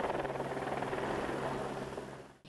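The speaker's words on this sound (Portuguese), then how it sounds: "O helicóptero da Polícia Militar jogou pétalas de rosas no local do enterro." Military Police helicopter at a burial in Castanhal, its steady rotor thrum and whine filling the air overhead, loud and continuous before easing slightly at the end.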